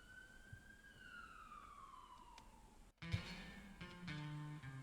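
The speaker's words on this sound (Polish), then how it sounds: "Już policja jedzie." A police siren in a video game wails in one long sliding tone, fairly faint, then stops abruptly and gives way to bright electronic game tones.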